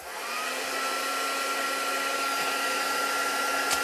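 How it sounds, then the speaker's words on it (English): A heat gun blows steadily while heating embossing powder on a stamped card, a close, even whooshing drone with a faint whine that starts abruptly and holds without break. "Right, I've got my heat gun here"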